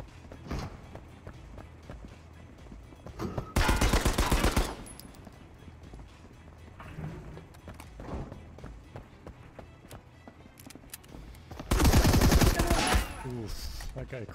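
Gunfire rings out in the video game Marauders: two loud bursts of rapid automatic fire stand out against quieter scattered shots and footstep-like tapping, with a voice talking in between.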